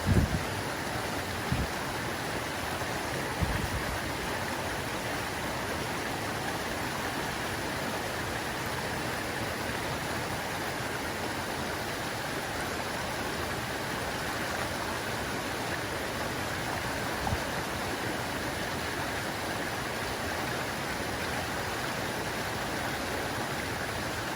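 Stream water rushing steadily at a hiking trail crossing in the Middle Prong Wilderness, a continuous broadband flow close by with a few faint knocks near the start.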